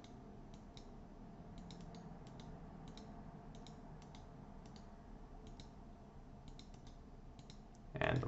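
Sharp computer mouse clicks, including right clicks, tap out intermittently in small clusters at a steady pace beneath a low background hum while building a structural equation model on a computer, ending with a brief louder burst.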